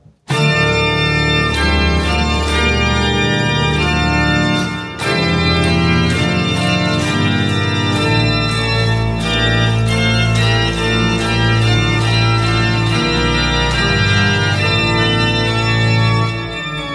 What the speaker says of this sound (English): So we're gonna check out the full organ,